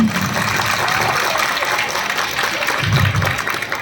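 Audience applause fills a school anniversary show during a mimicry and song performance, a dense, steady wash of clapping that holds at moderate loudness throughout, with crowd voices mixed in.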